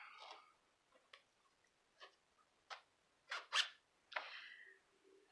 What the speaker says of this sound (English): the zipper gets caught when I try to open and close it